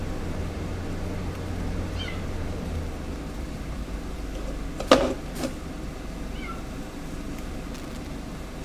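A stubborn cat trying to get into a house meows briefly near the middle, a single faint cry against steady low background rumble with no talk.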